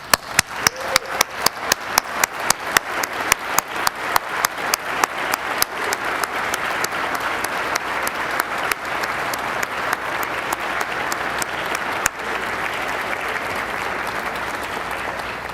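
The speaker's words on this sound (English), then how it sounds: "I'd like to lead another round of applause, a big round of applause, a standing round of applause for our Governor, Andrew Cuomo." Large audience giving a standing ovation for the governor at an event on expanding the Javits Center, starting with loud, rhythmic, synchronized clapping that settles into a steady, dense wash of applause lasting about fifteen seconds.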